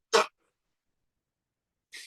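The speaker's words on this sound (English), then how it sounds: "Only I would blow my nose at that point" A single sharp, breathy nose blow bursts out near the start, followed by silence and a softer, shorter blow at the very end.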